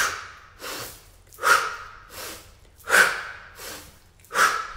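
Slow pranayama yoga breathing, close and clear, with deep rhythmic exhales repeating roughly every one and a half seconds, alternating softer and stronger breaths, with no talking.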